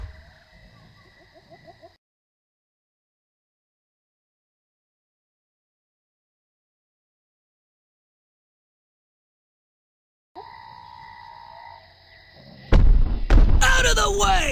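Heavy cannon fire erupts near the end of a World of Warcraft in-game cinematic, loud booming blasts following a silent stretch and layered over a sustained music drone.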